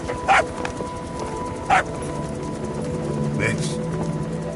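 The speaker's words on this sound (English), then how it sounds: "Here's the dog you brought back." A dog in Metal Gear Solid V: The Phantom Pain gives two short, sharp barks about a second apart, over steady in-game ambience and a low background hum, with a voice faintly present.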